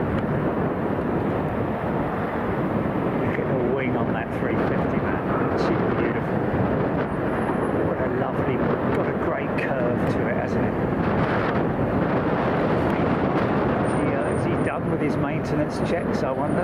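Aircraft engines at London Heathrow Airport on a windy day, a continuous low roar blended with gusty wind noise on the microphone, steady and fairly loud throughout.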